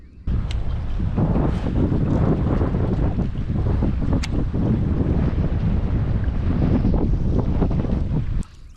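Wind roars continuously across the microphone on a fishing boat on the French Broad river, a loud, steady buffeting rumble lasting several seconds before cutting off abruptly.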